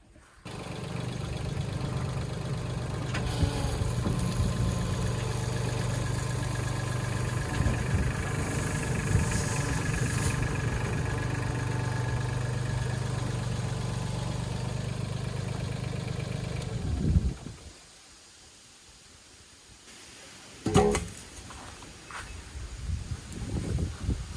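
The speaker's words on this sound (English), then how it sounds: "So I'm finna get the tractor and flip that one up." A low, steady tractor engine rumbles continuously for most of the clip during a sweet potato harvest, then cuts out briefly before resuming with a few louder bursts near the end.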